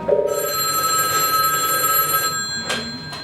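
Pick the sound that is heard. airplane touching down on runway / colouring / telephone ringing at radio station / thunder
telephone ringing at radio station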